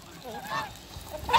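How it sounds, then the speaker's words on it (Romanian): Geese on a Romanian backyard poultry farm give a few honks, including a louder, nearer honk at the end, over faint background farmyard noise. "3 gâști"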